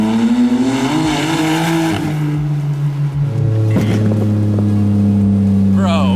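A flame-tuned car exhaust revs loudly and steadily up close, engine note rising and holding with a few sharp pops, while people talk over it.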